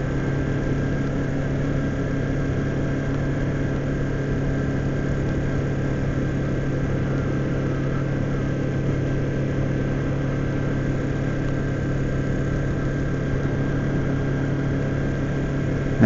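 A 2007 Kawasaki Ninja 250 motorcycle idles with a small engine's steady, even hum that holds at a constant level for the whole stretch, with no voices.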